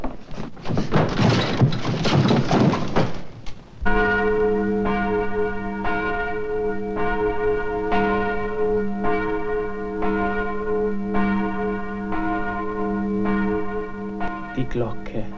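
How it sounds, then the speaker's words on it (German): A church bell rings in slow, regular strokes with long ringing decay, following a stretch of busy clattering and commotion at the start; the peals carry steadily for about ten seconds. "Die Glocke."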